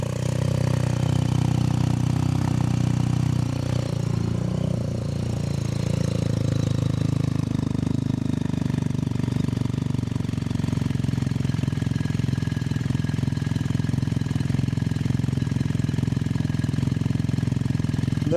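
A BMW R1300 GS motorcycle fitted with an Akrapovic titanium full exhaust with de-cat headers idles loud and close from a cold start, with a steady, deep, throbbing rumble that keeps on without a break.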